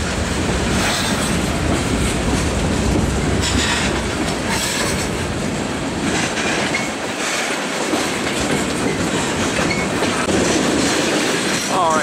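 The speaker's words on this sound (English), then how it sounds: "And this train is long." A long Norfolk Southern freight train passes close by through rural Rural Retreat, Virginia, its wheels clicking and clacking steadily and loudly with a faint squeal near the end.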